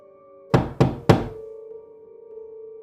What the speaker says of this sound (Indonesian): terdengar suara ketukan pelan dari jendela kamarnya